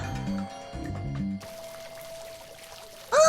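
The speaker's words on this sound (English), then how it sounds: "fountain! The water is running again!" Running fountain water in the video game The Darkside Detective: a steady, soft pouring wash that comes in after a short musical phrase, with a bright chime near the end.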